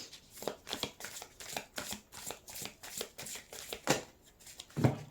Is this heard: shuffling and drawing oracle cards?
yes